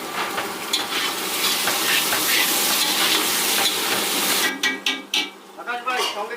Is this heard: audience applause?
no